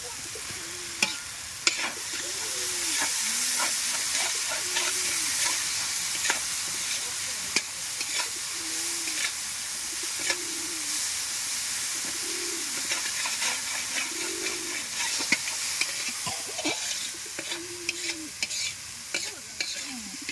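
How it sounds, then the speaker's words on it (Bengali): Onion and spices stir-fried in a pan over a wood fire in a village kitchen, steady close sizzling hiss with repeated scraping stirs throughout, a few clicks and faint bird chirps behind. "মশলাটাকে এবারে ভালো করে কষাবে।"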